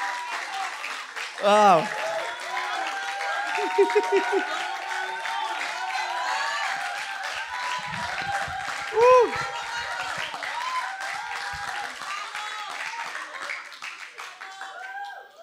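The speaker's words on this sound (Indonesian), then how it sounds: "waktunya untuk kasih tepuk tangan buat Tuhan" Church congregation applauding during a worship service, sustained clapping throughout with a few cheers, under a pastor speaking into a microphone who exclaims now and then.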